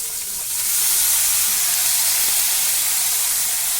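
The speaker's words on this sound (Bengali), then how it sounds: "নিয়ে সেদ্ধ করে রাখা মোচাটা এর মধ্যে মিশিয়ে দিলাম" Banana flower tossed into a pan with potato and ginger paste sizzles steadily, a broad close hiss of sautéing that holds at full strength from the first second on with no voice.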